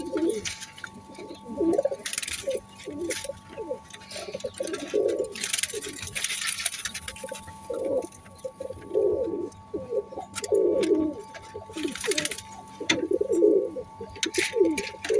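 Omani high-flying pigeons coo in repeated soft, throaty bursts at close range, joined by occasional chirps over a steady background hum; no one speaks.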